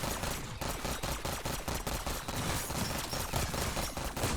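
Rapid automatic gunfire from a weapon in Black Ops 6 Zombies at round 27, a dense continuous stream of shots, loud and close, with no talking.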